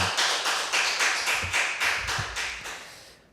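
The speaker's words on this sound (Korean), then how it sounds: "큰 박수 한 번만 좀 부탁드리도록 하겠습니다." Faint, slow applause at a seminar on growth systems, about nine evenly spaced, soft claps in a regular rhythm that gradually fade.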